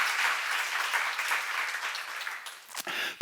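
An audience at a church Bible seminar claps in sustained, dense applause that fades slightly before ending with a sharp final burst.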